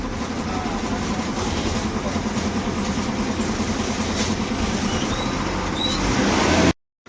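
An MSRTC Lal Pari bus idles at Mahabaleshwar bus stand, a loud steady low engine drone with a dense rumbling texture that runs unbroken before cutting off abruptly at the end.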